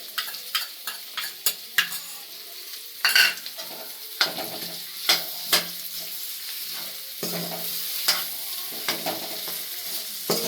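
Sabudana khichdi with ginger-chilli green chutney is stirred in a frying pan, with repeated sharp clicks and scrapes of a spoon against metal over a soft, continuous sizzle, close and rhythmic.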